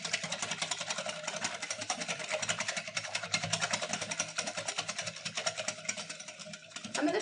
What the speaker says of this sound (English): Whisk it really well.